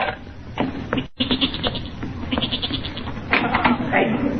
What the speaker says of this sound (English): That's the goat. He's getting restless down in the cellar.